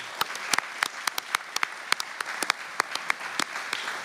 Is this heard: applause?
yes